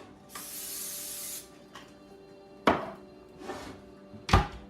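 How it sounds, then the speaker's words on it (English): Olive oil cooking spray hisses onto a cookie sheet in a steady burst lasting about a second, followed by a few sharp clunks and shorter knocks from handling the pan nearby. "spray it with some olive oil pan."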